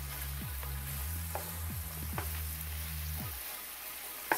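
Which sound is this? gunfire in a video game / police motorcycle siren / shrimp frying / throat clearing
shrimp frying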